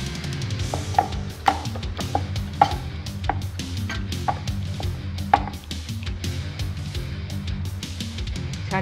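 Small puri dough rounds rolled out with a rolling pin on a hard surface, giving repeated close knocks and soft thuds in an uneven rhythm, with no talking.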